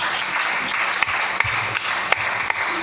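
A church congregation breaks into applause acclaiming the Lord: a steady wash of clapping with a few sharp louder claps standing out, heard from amid the crowd without speech.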